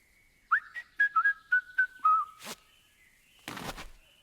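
Whistling in the Truberbrook video game: a quick run of short, clear whistled notes, followed by a couple of brief noisy bursts.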